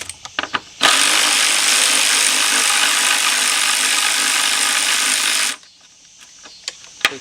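A ratchet spins out a 10 mm bolt on a Mercedes-Benz E350, close up and loud as a continuous rapid clicking whir for about five seconds, framed by a few sharp taps before and after.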